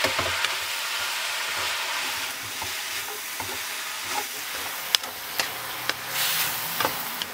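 Meat, cabbage and spices stir-fried in a wok, a steady broadband sizzle running throughout with a spatula scraping and clacking against the metal at irregular intervals, close and fairly loud with no talking.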